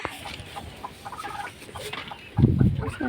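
Chickens cluck close by in short bursts as they are fed, with a louder flurry of low clucking and scuffling near the end over background noise.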